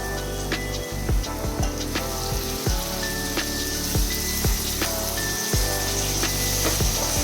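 Tomatoes sizzling in spiced masala in a pan while cooking karela: a continuous crackling, spattering hiss with a few louder pops and clinks, steady and close.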